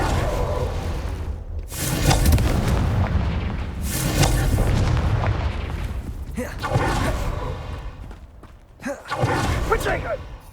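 Repeated Confringo fire spells in Hogwarts Legacy go off as heavy booming blasts, several loud thuds in a row with crackling bursts, while shouted voices cast over the battle.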